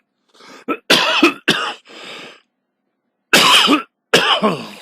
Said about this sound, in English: I am sorry about that coughing